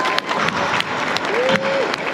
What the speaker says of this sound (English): I would like you to give him a big round of applause for being so brave to come on stage for us today